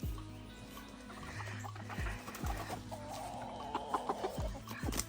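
Meat chickens on a farm clucking near and continuously, overlapping soft calls with occasional sharper notes and low thumps, no talk.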